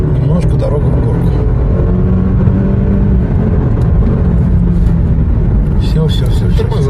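A Toyota Land Cruiser 300 accelerating hard from a standstill up a slight uphill road, its engine a steady, loud low drone heard from inside the cabin, with people talking over it.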